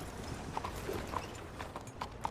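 Horse hooves clip-clop at a steady walking pace in Red Dead Redemption 2, the light, evenly spaced hoofbeats sounding quiet and close over a soft background.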